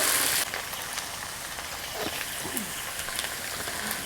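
Lightly fried potatoes and chopped onion crackle in hot oil with a dense, steady sizzle close by, plus a brief brighter burst of spatter at the start.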